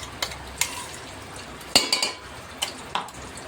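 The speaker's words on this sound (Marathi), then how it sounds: "बघा छान असं तेलात मिक्स करायचं आहे" Ground masala stirred and fried in oil in a pan, with a few scattered spoon scrapes and clinks against the metal over a soft, steady sizzle.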